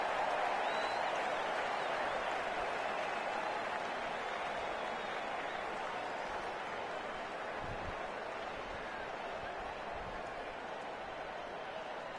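Virtual stadium crowd in Cricket 19, an IPL 2020 match between DC and KXIP played on PS4, roars steadily after a six, a broad sustained cheer lasting throughout with game commentary voices underneath.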